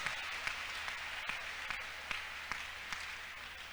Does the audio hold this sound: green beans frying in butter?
no